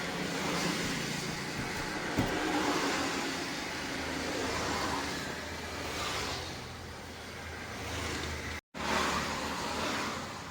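A loaded goods vehicle drives along a road in light rain, giving a steady, muffled engine and road rumble heard from inside, with a brief dropout near the end.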